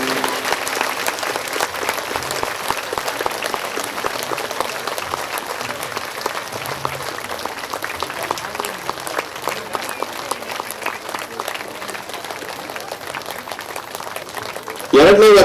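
Loud, sustained applause from a large audience at a women's spiritual gathering in Ballari, a dense continuous roar of clapping for the full stretch with no voices over it.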